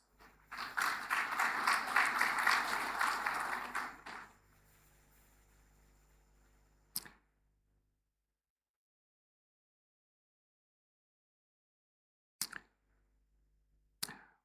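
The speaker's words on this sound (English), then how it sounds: "I think they deserve a hand of applause" Conference audience applauding during a general assembly session, a dense burst of clapping for about four seconds that fades out, followed by a few isolated thumps and near silence.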